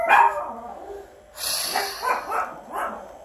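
Dogs barking indoors, a loud near bark at the start, then a pause and a run of several more barks and yips at a moderate level.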